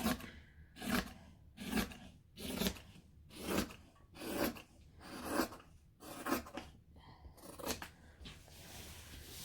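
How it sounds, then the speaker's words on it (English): Spring-loaded scissors cut through fabric in a steady series of about ten crisp snips, each a short crunchy cut close to the microphone, with no talking. "So now I'm going to take my elastic spring-loaded scissors and cut that out."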